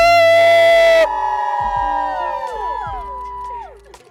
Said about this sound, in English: Everyone give me a cheer.